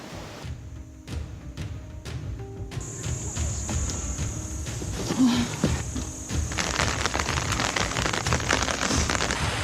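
Rain falling during a trek in Langtang National Park, Nepal, a steady close patter and hiss throughout, with insect-like buzzing and occasional clicks, growing slightly denser toward the end.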